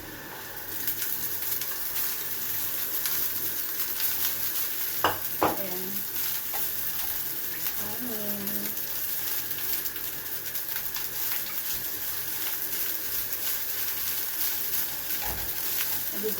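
Rice is stir-fried in a pan with cooked onion for kimchi fried rice, a steady close sizzle with occasional scraping and clinks of a utensil against the pan.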